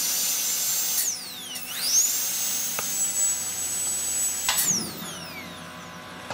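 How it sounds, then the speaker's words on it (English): A high-speed dental handpiece turbine spins up to a piercing steady whine, dips in pitch briefly, then holds a sustained high tone before winding down, close and alone with faint clicks. "we'll press down on the foot pedal just to run that oil up into the turbine"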